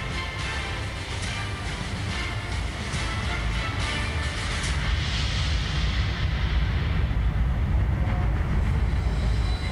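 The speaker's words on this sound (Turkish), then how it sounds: "Raylara indi 5 vagonlu Türkiye'nin ilk ve yerli" Turkey's first domestic electric train, a five-car set, rolls along the rails with a continuous low rumble and rushing noise that swells slightly as it nears, steady and fairly loud, no voices.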